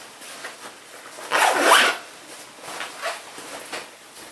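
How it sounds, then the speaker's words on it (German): A zipper on a tote bag is pulled closed in one short, close, rasping stroke, with faint rustling handling before and after it. "Wir haben hier auch einen Reißverschluss. Also man kann die Tasche auch gut zumachen."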